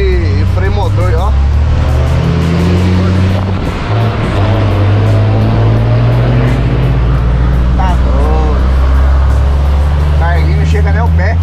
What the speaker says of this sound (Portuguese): o barulho desse caminhão é chique, hein, mano? O barulho e o freio motor